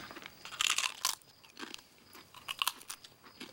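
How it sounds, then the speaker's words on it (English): Crisp potato chips crunch and get chewed up close, a burst of sharp brittle cracks followed by softer chewing crunches, fairly quiet with no talking. "Your chip adds a needed crunch to our superior flavoring."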